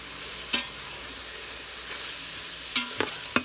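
Vegetables and onions frying for Chinese fried rice, a steady close sizzle broken by a few sharp scraping stirs of the spatula in the pan, with no talk.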